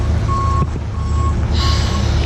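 A truck backs up toward a shipping container that is about as wide as the truck, its reversing alarm beeping at a steady interval over loud, close engine rumble.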